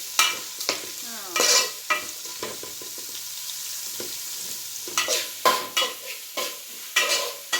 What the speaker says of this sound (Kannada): ಈರುಳ್ಳಿನ ಚೆನ್ನಾಗಿ ಫ್ರೈ ಮಾಡ್ಕೊಂಬಿಡೋಣ